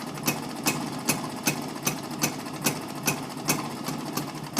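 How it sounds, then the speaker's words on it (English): A Rajdoot 175 motorcycle engine idles during carburetor tuning with a steady, evenly spaced thumping beat of about two pulses per second, loud and close, with no voices. "set it at a point where you are comfortable with the idling speed of the engine"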